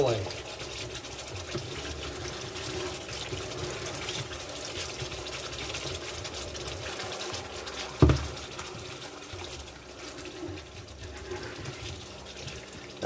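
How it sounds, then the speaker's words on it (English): Chicken Madras on the bone, with base gravy and spices, sizzles in a pan: a steady, close hiss and bubbling run throughout, broken by one sharp knock partway through. "Sizzling away."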